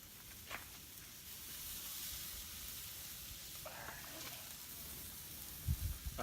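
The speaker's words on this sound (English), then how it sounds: "Listen to that sizzle." Steady crackling sizzle of a cowboy ribeye steak on a hot Lang hybrid char grill, a soft constant hiss with a few faint pops and light handling sounds.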